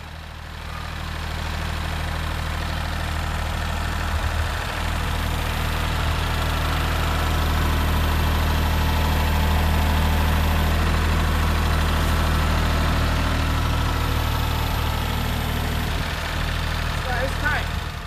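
A tractor engine drones steadily and loudly throughout under a heavy load of a roughly 1,000 lb pallet, a deep continuous rumble with a faint rise in effort as revs increase, and a voice talks over it.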